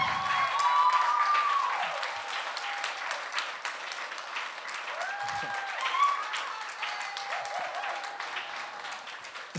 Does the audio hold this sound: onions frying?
no